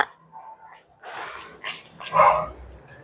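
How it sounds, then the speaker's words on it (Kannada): A dog on a quiet residential street gives a few short barks and growly yelps at close range, with breathy gaps between them and a louder final bark. "ನಾಯಿ ಬರುತ್ತೆ"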